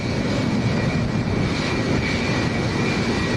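Condor airliner, striped livery, on final approach at Lanzarote Airport in a strong crosswind, a steady loud engine roar filling the whole stretch without pause.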